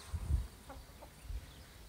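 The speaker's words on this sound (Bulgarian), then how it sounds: "Имаме кокошки. Това са кокошките." Chickens in a farmyard give a few soft, scattered clucks, faint and somewhat distant, over low background rumble.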